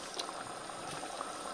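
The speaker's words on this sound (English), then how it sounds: "Let's let that simmer now, 30 minutes." Black bean soup simmering in a pot, a steady close bubbling and gentle boiling hiss that runs evenly throughout with no talk.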